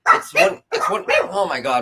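Dogs barking in short bursts close by, overlapping with someone talking over them.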